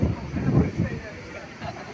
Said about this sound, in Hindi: हवा जो है कितना हवा चल रहा है देखो